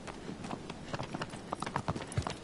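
Horse hooves clip-clop in a quick, uneven trot in the video game Shadow of the Colossus, fairly close but soft, with no voices over them.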